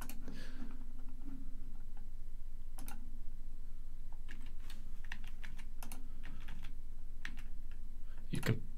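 Computer keyboard keys are pressed in a steady run of light clicks and taps, close and quiet, with irregular spacing and a low background hum.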